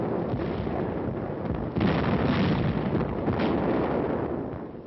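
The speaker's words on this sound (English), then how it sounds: "tremendous artillery barrages" Heavy WWII artillery barrage at the Anzio beachhead, as in an old newsreel; continuous rumbling booms and overlapping blasts, loud and muffled with a narrow, dated sound.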